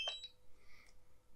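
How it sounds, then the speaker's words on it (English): A DJI Mini 3 Pro drone remote controller gives a short, faint electronic beep as it powers on, followed by a quieter tonal chirp in near-silence. "Beep."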